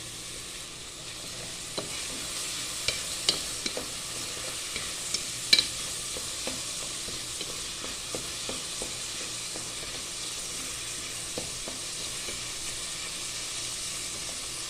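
Shiro being stirred and fried in a little oil in a pan, a soft continuous sizzle with scattered spoon taps and scrapes at an easy pace, fairly quiet and without talk.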